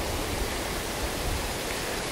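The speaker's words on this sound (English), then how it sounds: "We're just at the waterfalls now, which are further up the dale" Waterfalls in Lathkill Dale in the Peak District rush in a steady, dense, broadband roar that fills the air close by, with no voices over it.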